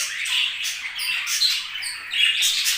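A pet budgerigar chatters close up with a continuous stream of high, scratchy chirps and squawks that rise and fall in short bursts.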